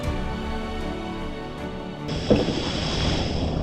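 Waterfall at the Tamhini Ghat valley view point, heard as a steady broadband rush of falling water with a brighter hiss joining partway through, continuous and fairly close.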